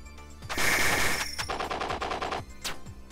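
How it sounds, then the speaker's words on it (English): A sentry gun in the video game Rabi-Ribi fires a rapid burst of rattling shots, then a series of evenly spaced, punchy blasts, loud and close with game sound effects layered over them. "Sentry gun!"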